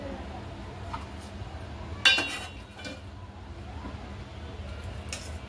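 Pigeon pea dal curry is ladled onto a plate, with one sharp metallic clink of a ladle against a dish followed by softer scraping in a quiet room.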